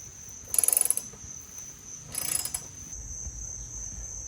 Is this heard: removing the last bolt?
yes